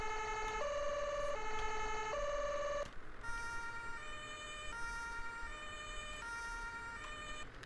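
Ambulance siren from a rescue vehicle heading to an emergency in Landwirtschafts-Simulator 17, loud and steady, switching from a two-tone wail to a higher alternating pattern midway, with an engine rumble underneath and no talking.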